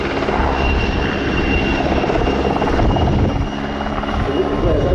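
Two W-3A helicopters hover facing each other in a merry-go-round display at RIAT, their steady, loud rotor thump and turbine whine filling the air while a commentator talks over them.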